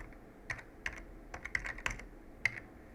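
Quick, uneven bursts of keystrokes on a computer keyboard as search terms are entered, crisp and close with short pauses between clusters of taps.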